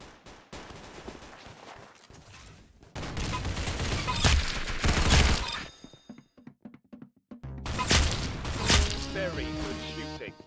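Bursts of rapid gunfire and heavy thuds in a Roblox shooting game, clustered in two loud stretches with brief pauses between, mixed with game sound effects.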